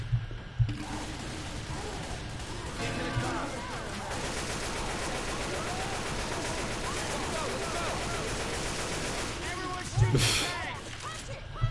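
Rapid gunfire crackles in the zombie shooter video game Left 4 Dead 2, with sustained bursts of shots and game effects running through most of the stretch and a louder burst near the end.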